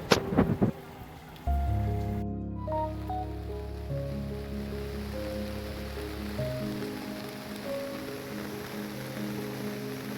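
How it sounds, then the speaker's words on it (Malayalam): Steady heavy monsoon rain hisses throughout during Onam in Kerala, with a sustained musical tone and a few sharp knocks near the start. "നിങ്ങൾക്ക് കാണാൻ പറ്റും മഴ നിർത്താതെ പെയ്യുന്നുണ്ടായിരുന്നു"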